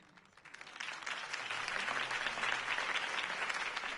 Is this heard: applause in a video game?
yes